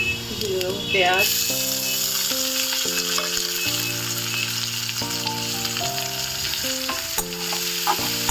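Onions lightly frying in mustard oil with garlic and green chillies in a home kitchen pan, a steady close sizzle running throughout under background music with a brief stirring scrape near the start.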